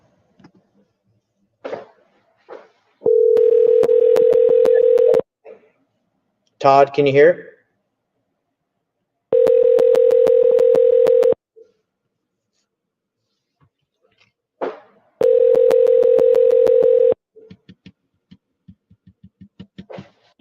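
Three long steady ringback tones of about two seconds each, separated by pauses, come through a phone line as an outgoing call rings out, with a brief voice speaking between them and some clicks and faint noises.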